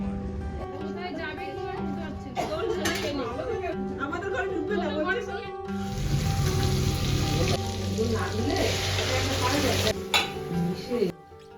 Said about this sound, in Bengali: কড়াইতে সর্ষের তেলে রসুন ফোড়ন দিয়েছি, তাতে বাটা মশলাটা দিয়ে দিলাম।